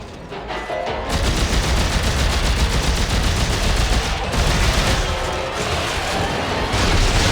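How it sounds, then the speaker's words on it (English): An assault rifle in a video game firing rapidly in a weapons-testing arena, a dense, loud, continuous stream of shots with only brief pauses. "I just want to show you how quick it fires"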